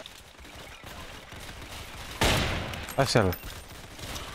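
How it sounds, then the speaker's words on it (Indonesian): In a Roblox WW2 video game, a burst of gunfire cracks out, then a second rattling volley follows, over faint background noise. "Ayo, ada machine gun mana? Guna. Okey, nice. Tembak."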